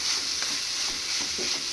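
Grated coconut, chopped coriander and spices fry in a small pan for a Maha Shivratri puffed-rice upma, with a steady close hiss of sizzling and soft scraping stir strokes.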